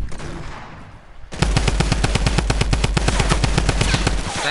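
Rapid automatic gunfire erupts in a Fortnite match after a brief quieter lead-in, a loud, dense stream of shots continuing steadily to the end.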